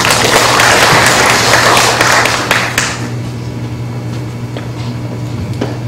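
An audience at a youth working-holiday information session in Taoyuan applauds to welcome a speaker, a loud, dense wash of clapping for about three seconds that then fades into quieter room noise with a few scattered claps.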